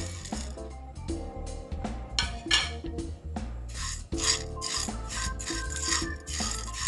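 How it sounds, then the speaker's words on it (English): Cumin, peppercorns, chana dal and cinnamon sticks dry roasting in a pan, stirred to produce steady close rasping and rattling of whole spices against metal, loud and continuous with brief gaps, no speech. "I'm going to dry roast all these in a pan."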